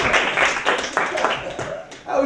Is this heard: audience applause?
yes